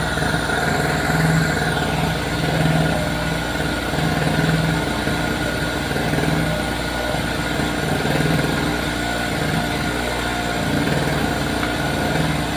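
An Oshima portable electric generator runs steadily at close range, a continuous engine drone with a constant hum and no talking.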